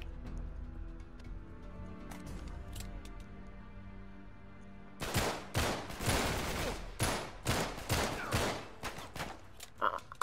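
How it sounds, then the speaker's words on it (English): A gun fires in the video game Uncharted 3: Drake's Deception. A quiet game backdrop gives way halfway through to a rapid string of loud, sharp shots in quick bursts. "I gotta try out this gun."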